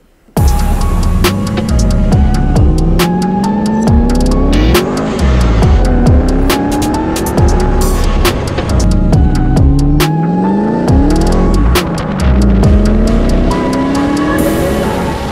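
A 740 hp supercharged Corvette C5 from 2000 revs loudly and close by, its engine rising and falling in repeated climbing surges with a sustained roar between them.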